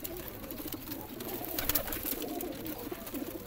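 Pigeons in a rooftop loft of about 170 paired birds coo softly and continuously, a faint murmur without talk.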